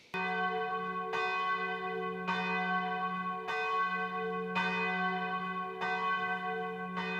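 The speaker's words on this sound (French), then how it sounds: "Bronia, si ces cloches pouvaient voyager à la vitesse du son jusqu'en Pologne" Church bells ring loudly with rich, sustained tones, each new strike landing roughly once a second over the lingering hum of the previous ones.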